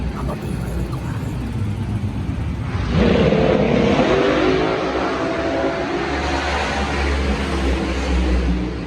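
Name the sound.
race cars driving past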